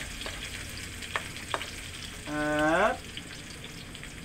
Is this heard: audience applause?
no